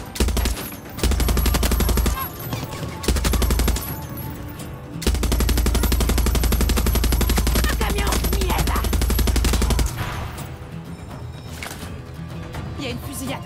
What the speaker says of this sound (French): Il y a une fusillade.